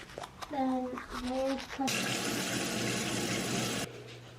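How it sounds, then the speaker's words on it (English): A bathroom tap runs in a steady, full gush for about two seconds, then shuts off. A brief spoken voice comes just before the water starts. "Wash my face."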